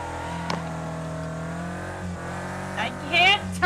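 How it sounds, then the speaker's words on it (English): Car spinning out in the Wreckfest racing game, a steady engine drone with rising revs and a short tire squeal toward the end, heard with game audio in the background. "I just fucked up and spun out."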